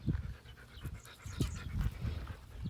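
A young board-and-train puppy pants in quick, close, soft bursts, several breaths in a short irregular rhythm, with no talk.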